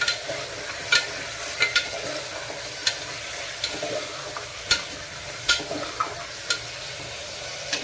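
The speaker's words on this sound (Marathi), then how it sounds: "त्याच्यामध्ये आपण 250 ग्राम मटण टाकणार आहोत। गॅस हाय करून घेणार आहोत आणि याला परतून घ्यायचं।" Mutton sautéed on high heat with browned onions: a steady sizzle and hiss of frying runs throughout, broken by repeated sharp clinks and scrapes of stirring, close and fairly loud.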